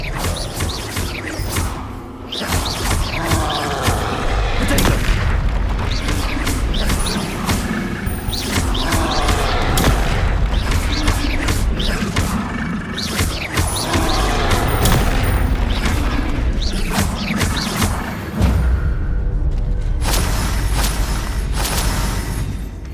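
Confringo fire spells blast repeatedly during Hogwarts Legacy combat, a loud, dense run of booms and crackling impacts that carries on for the full stretch with hardly a pause.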